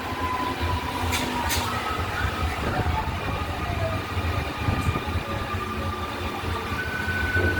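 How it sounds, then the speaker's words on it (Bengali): An EMU train rolls into Mecheda railway station with a continuous rumble and faint wheel squeals, while a few brief clanks sound close by. "আমাদের ট্রেন এই মুহূর্তে এসে পৌঁছেছে মেছেদা রেলওয়ে স্টেশন"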